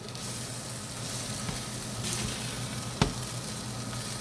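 Squash sizzles steadily in a hot cast iron pan while a utensil scrapes at browned bits, with a couple of sharper scrapes and knocks over the continuous frying hiss.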